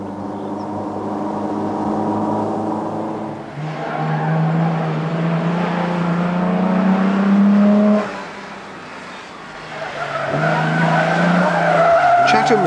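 A 1950s Sunbeam Rapier classic rally car being driven hard on mountain roads, with loud engine drone and revving, tire skids and squeals, and a roaring pass near the middle.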